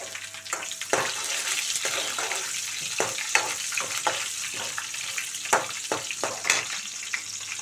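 Curry leaves with chopped onion and green chillies sizzle in hot oil over a medium flame for a Telugu-style tempering, a steady close frying hiss broken by frequent sharp crackles and pops, with no talking.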